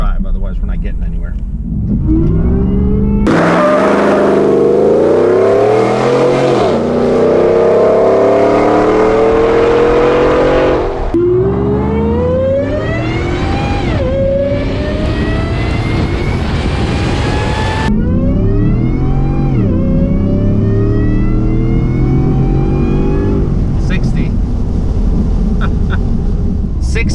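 A 750 hp Shelby F150 truck launches hard in all-wheel drive up a slight uphill grade, its engine roaring loud and close and climbing in pitch through several gear changes, with talk at times.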